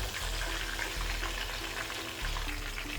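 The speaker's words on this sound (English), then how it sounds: "once you're done frying your chicken" Oil sizzles and crackles steadily as chicken fries in a pan, a continuous hissing sound up close with no talking.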